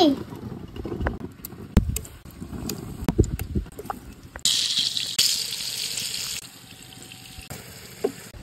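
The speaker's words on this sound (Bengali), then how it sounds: "তো আবার গরম তেলে এক এক করে ভেজে নিচ্ছি" Potato pieces hit hot oil one at a time and fry with a loud, steady hiss and gush in the second half, after clattering handling and kitchen knocks at the start.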